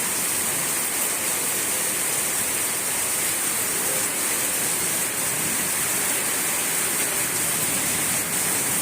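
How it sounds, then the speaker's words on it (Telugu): Steady afternoon rain falls outdoors as a continuous, even broadband wash with no pauses, loud and close, like a constant hiss with no talk over it. "మళ్ళీ ఇప్పుడు వచ్చిందండి వర్షం."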